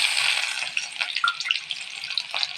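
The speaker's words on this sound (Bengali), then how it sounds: "কড়াইয়ে তেল দিয়ে দিয়েছি এবার কেটে রাখা পেঁয়াজটা দিয়ে দেবো" Chopped onions dropped into hot oil in a wok, giving a steady, close hiss of frying with faint clinks, continuous throughout and fading briefly at the end.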